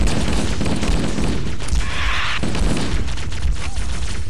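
Dense, continuous gunfire from allied troops in Halo: Combat Evolved, a loud sustained fusillade of overlapping shots with a brief bright burst in the middle, no voices.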